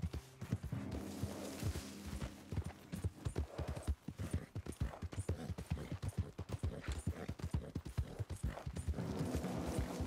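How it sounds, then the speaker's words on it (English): Horse hooves clip-clopping at a steady walking rhythm in the Red Dead Redemption 2 game, crisp and close, with faint snorting and low horse sounds between the steps. "The horse does kind of sound like a pig sometimes"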